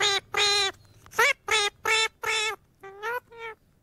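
Parrots squawk in a rapid series of about nine loud, harsh calls in short bursts with brief gaps, close and clear with no talk.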